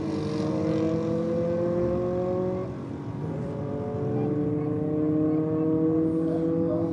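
A Nissan 180SX drag racing down the strip at Sydney Dragway on a comp night, its engine droning loudly with shifting harmonic tones. The note dips briefly mid-run, then climbs again under a faint voice.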